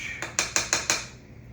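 A spoon clinks against a dish several times in quick succession, five bright metallic taps close by in a quiet kitchen, fading to stillness afterward.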